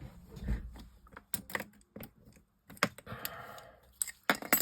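Scissors cut through patterned paper in short, close bursts of snipping and crisp paper rustle, separated by brief pauses and handling clicks, with no talking.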